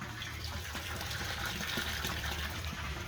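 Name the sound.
water pumped and flowing through fish barrel system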